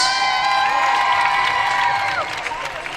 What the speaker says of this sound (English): Give all these youngsters a big round of applause.